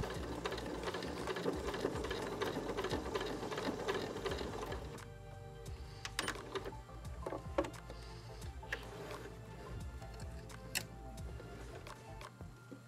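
A sewing machine stitches a reusable fabric teabag in a fast, continuous run of mechanical clatter for about five seconds, then falls to sparse ticks and clicks as the work is turned and handled.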